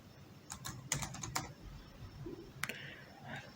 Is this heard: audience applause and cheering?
no